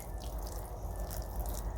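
Water drips steadily from the drainage hole of a rain-soaked succulent pot, a light patter of irregular drops, close and fairly quiet over a low background hum.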